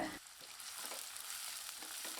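Close, continuous sizzling of chopped onions sautéing in hot oil, with faint stirring and scraping sounds throughout and no talking.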